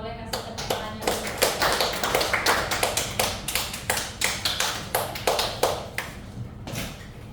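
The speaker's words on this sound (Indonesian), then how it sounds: "Kelompok 2 boleh kasih tepuk tangannya dulu." A classroom group applauds together, a sustained run of close, sharp claps in quick rhythm that tapers off toward the end, with no talk over it.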